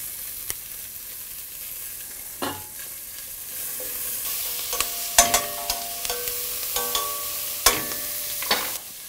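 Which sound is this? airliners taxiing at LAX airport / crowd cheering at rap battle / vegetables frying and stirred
vegetables frying and stirred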